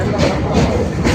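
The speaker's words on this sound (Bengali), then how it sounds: "এই যে ট্রেন এসে গেছে" A train pulling into a station, a steady broadband rumble and rattle of wheels on rails, close and loud throughout with no clear pauses.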